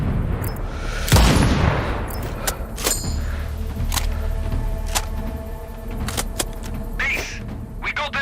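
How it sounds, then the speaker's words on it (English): A loud explosion bursts early in a Sniper Ghost Warrior Contracts 2 game scene, followed by scattered thumps and clicks under a steady background rumble. "Base, we got an explosion in Sector 4"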